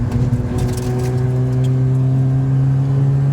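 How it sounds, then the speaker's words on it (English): A thirty-year-old rotary-engine car with a lightweight flywheel drives along, its steady, loud engine drone holding a strong low hum that swells slightly as it accelerates, close and continuous with no talk. "the car still feels great to drive, even 30 years later"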